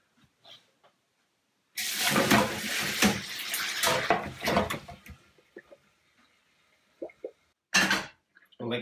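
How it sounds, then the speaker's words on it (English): Water is poured off a pan of boiled chicken, a loud splashing gush lasting a few seconds in a kitchen, then a few short drips and clinks, with a brief burst near the end. "So, now your chicken's boiled for an hour, it's time to drain it."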